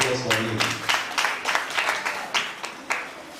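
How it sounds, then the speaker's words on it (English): Audience applause at a formal gathering honoring dignitaries, a steady burst of clapping that comes in repeated swells and fades, with no voices on top. "A round of applause for him."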